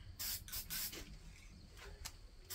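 Hammered spray paint hisses from an aerosol can onto rusted metal in several short bursts with brief pauses between them, close and fairly quiet.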